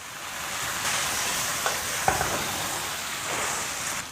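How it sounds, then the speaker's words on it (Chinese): Chicken feet being stir-fried in a wok with dried Sichuan peppercorns, hotpot base and a splash of cooking wine, giving a constant loud sizzle with a few knocks and swishes of the spatula, close up and without talk. "干花椒，炒香后下入焯好水的鸡爪，继续给它翻炒匀净，烹入一点料酒"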